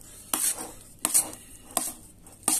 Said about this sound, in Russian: беру ложку и перемешиваю это дело все